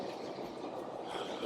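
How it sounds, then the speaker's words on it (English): A small airport shuttle train at Doha's huge airport rolls in with a faint, steady rumble and soft rail hiss under a noisy terminal hall. "I was very glad to see this little train appear out of nowhere."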